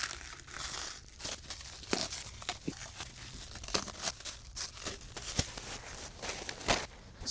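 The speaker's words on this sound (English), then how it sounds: "we'll go ahead and cut the plastic wrap off of this thing" Plastic wrap is cut and torn off a Tesla Model S 100kWh battery pack, producing close, irregular crinkling and sharp tearing bursts scattered across several seconds, with no speech.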